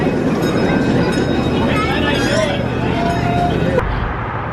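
Steady rumble of a roughly 10-minute loop train ride at Walt Disney's Carolwood Barn, Los Angeles, with rattling wheels and squealing rail tones, loud and continuous, ending in a sudden drop.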